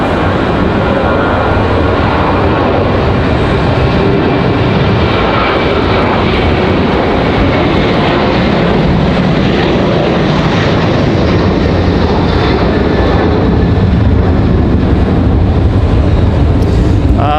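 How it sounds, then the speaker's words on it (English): A Delta CRJ-900 regional jet takes off, its engines roaring loud and steady throughout with a broad rumble that swells slightly toward the end, no voices present. "Delta going to go for it. No early rotation for the 900."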